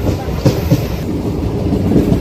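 A train passes on the Guntur line toward Tenali, a loud, close rumble of wheels and wagons that rolls on continuously with faint rattles and clacks.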